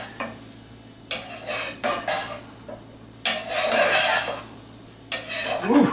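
Noodles dressed with Frank's Red Hot sauce being mixed in a bowl: several bursts of scraping and clinking utensil strokes, close and fairly loud, separated by short pauses.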